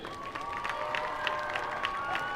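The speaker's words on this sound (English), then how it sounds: "want a big round of applause for your Franklin High School seniors" A crowd in the stands at a high school varsity football game applauds and cheers the Franklin High School seniors, a steady mass of scattered clapping and distant cheering with a faint tonal hum running underneath.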